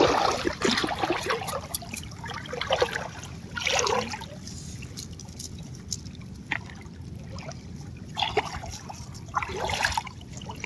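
A river running in a strong current beside an eroding bank where nets are being hauled gives a soft continuous wash, broken by several short splashy surges of moving water, fairly quiet and with no talk.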